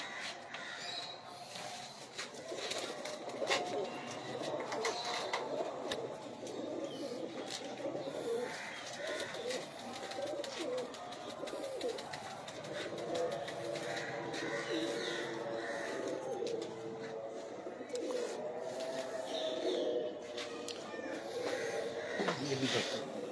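Pigeons of an old breed coo softly and repeatedly while being handled, with wing shuffles and rustling, faint voices chatting nearby.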